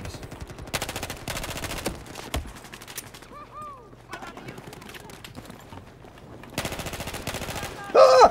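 Rapid automatic gunfire in the video game Battlefield 4, with loud, dense bursts at the start and again near the end, separated by a quieter stretch that includes brief bird-like chirps.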